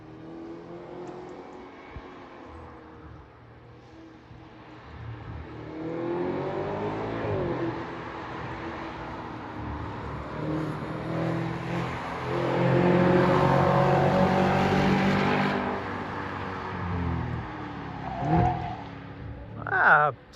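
Engine of a 2010 Audi RS5 revving, climbing in repeated strong pulls to a loud peak and then dropping back, with people talking over it before and after.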